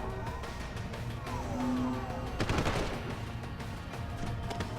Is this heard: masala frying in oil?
no